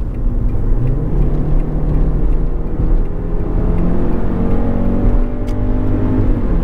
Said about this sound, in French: On va essayer de procéder à son exercice d'accélération.